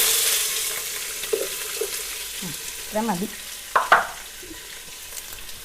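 Chopped onions sizzle steadily in hot oil in a pan after cloves have been added, with a soft continuous fry punctuated by a few scraping stirs of a spoon, while a person speaks briefly.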